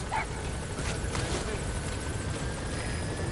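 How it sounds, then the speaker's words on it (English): A helicopter arrives for a pickup in the Metal Gear Solid V video game, its rotor a steady dense roar filling the short clip, with faint voice fragments mixed in. "Helicopter pick up."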